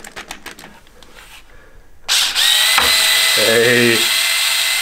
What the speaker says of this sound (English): I'm going to use an electric drill with a wobble head on it on one of the bolts